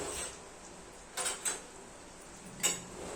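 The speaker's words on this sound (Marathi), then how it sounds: "आता त्या चमच्यानं चांगलं त्याला खोडतो." A spoon scraping and knocking against a pan while stirring garlic, ginger and cumin paste: a few sharp metallic clinks and scrapes over a quiet background.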